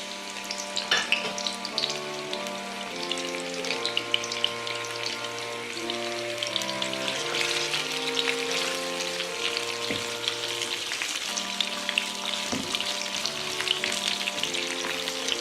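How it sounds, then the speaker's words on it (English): Onion slices cut into rounds fry in a pan, a loud continuous sizzle and crackle running alone, with soft background music tones beneath and a couple of brief knocks. "we're gonna add in our onions that are sliced into rounds"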